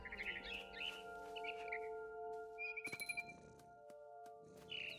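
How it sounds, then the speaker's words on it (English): A barn swallow chirps in the video game What Remains of Edith Finch. The short, bright chirps come in clusters over a steady hum of background tones, with a few clinking sounds. "Then I heard chirping outside my window. It was a barn swallow going back to her nest."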